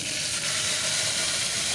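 Garlic and whole cumin seeds sizzle in a little hot oil for a dalcha, a steady bright crackling hiss heard close up with no talking.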